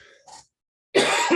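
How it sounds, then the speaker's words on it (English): A brief throaty sound, a pause of silence, then a harsh, forceful cough close to the microphone during a technical talk at a PostgreSQL meetup. "Stupid cough."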